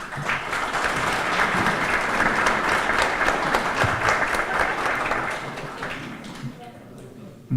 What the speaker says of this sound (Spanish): para quien pido un aplauso por este premio.